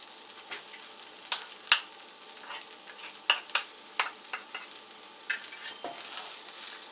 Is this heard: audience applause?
no